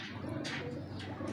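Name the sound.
Ferozpuri pigeon cooing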